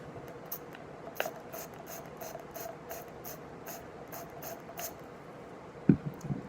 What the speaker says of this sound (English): I'm spraying 10 to 12 sprays.